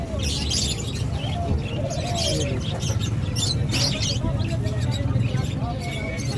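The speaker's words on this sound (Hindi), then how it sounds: "ये देखे नई किस्म की मुर्गी।" Chickens of a new breed for sale at a weekend bazaar in Clifton chirp and tweet in quick bursts. Busy market chatter and people talking run underneath throughout.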